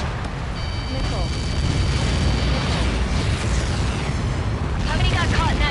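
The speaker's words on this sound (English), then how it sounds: "How many got caught in that explosion?" A missile impact explosion booms in a military video game, a sustained roaring blast with rumbling debris that stays loud throughout, with radio-style voices briefly heard.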